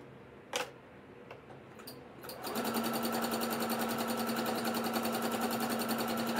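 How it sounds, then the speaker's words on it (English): A sewing machine doing free motion quilting on an ugly sweater wall hanging. A few soft clicks come first, then the motor starts up into a fast, steady, close mechanical whir with a rapid ticking stitch rhythm. "I'm just trying to show you what I have to go through to free motion quilt on this machine."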